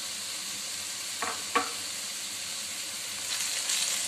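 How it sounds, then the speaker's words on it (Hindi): Yogurt frying with okra in a pan for restaurant-style masala bhindi gives a soft, constant hiss at low volume, broken by two brief taps from a utensil, with no voices. "दही डालकर भी हम भून लेते हैं।"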